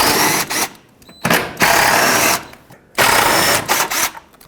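Power ratchet or drill driving out three 10mm bolts inside the airbox of a 2003-2008 Toyota Corolla, heard as several loud, close whirring bursts with short pauses between them.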